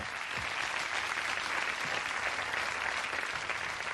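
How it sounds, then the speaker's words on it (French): Sustained studio audience applause rises for Gilles on a 1994 French television tribute show, a dense, even wash of clapping holding steady for the full stretch with no voices over it. "Bon, allez, on applaudit Gilles"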